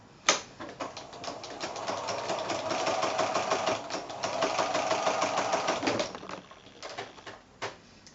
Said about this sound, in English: I'm just going to sew by eye from corner to corner